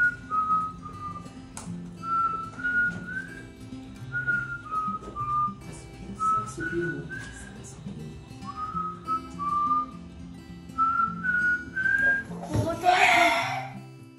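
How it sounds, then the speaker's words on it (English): A grandfather whistles a familiar tune in clear, loud, close melodic phrases with short pauses between them, over soft background music and some talk, before voices and a burst of noise take over at the end. "he does that every time you are in the mall, you are in the restaurant, he's whistling and loud"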